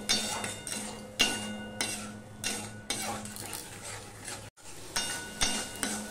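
A spice masala for a vegetarian spiny gourd dish is stir-fried with a splash of water, making repeated metallic ladle scrapes and clanks against the pan over a low sizzle. It stops briefly near the end, then resumes, with no speech.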